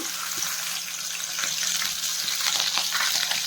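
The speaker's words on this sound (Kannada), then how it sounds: "ಈಗ ಮೆಣಸಿನ್ಕಾಯಿನ ಹಾಕ್ಕೊಳ್ತಾ ಇದ್ದೀನಿ" Green chillies fry in a couple of tablespoons of hot oil for soya chunks Manchurian, giving a steady close crackling sizzle that grows slightly louder and busier partway through.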